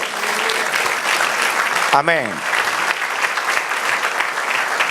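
A church congregation breaks into steady, dense applause during a sermon, sustained and loud throughout, with a preacher's voice briefly rising over it.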